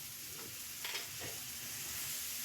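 Onion, ginger and garlic paste goes into hot oil spiced with garam masala for a prawn malai curry, giving a soft, steady sizzle with faint stirring scrapes, quiet and close, with no talking.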